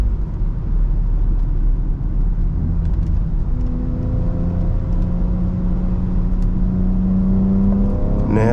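A lifted and stretched BMW M3 accelerates hard out of a corner, engine pitch climbing steadily through the revs, loud and close from inside the car with no voices.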